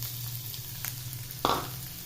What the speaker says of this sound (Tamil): வெங்காயம் வந்து ஒரு பாதி அளவு வதங்கட்டும்